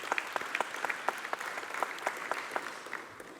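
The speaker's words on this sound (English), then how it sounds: "May we please just give a round of applause for all our organizers." Audience applause for event organizers at a formal gathering, a steady patter of many hands clapping at moderate loudness, slowly fading toward the end.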